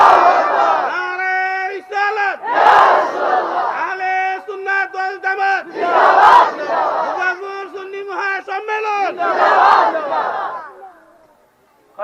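A large crowd answers a preacher's call with loud, harmonic chanted shouts of takbir at a Bangladeshi religious gathering, four surging waves of massed voices over about ten seconds before falling quiet.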